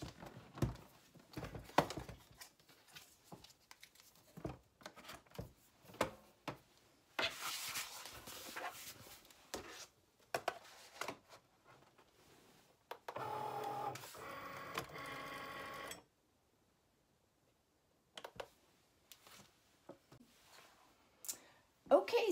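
A craft cutting machine cuts a custom door mat design: intermittent clicks, whirring carriage moves and short buzzing bursts, close and fairly quiet, with pauses between passes.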